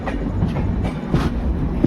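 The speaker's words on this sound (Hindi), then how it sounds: "बस आप लोग तो जयपुर जंक्शन पहुंचने तक ट्रैक साउंड को एंजॉय कीजिए।" The 18574 Bhagat Ki Kothi–Visakhapatnam Express rolls along the track toward Jaipur Junction, a loud, steady rumble with soft rhythmic wheel clacks heard from on board.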